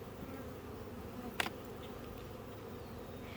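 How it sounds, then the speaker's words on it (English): Honey bees at a hive in a bee yard give a faint, steady low buzz, with one brief sharp click partway through. "The bees on that hive."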